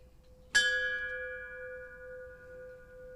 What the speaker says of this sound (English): for ringing the bell for us today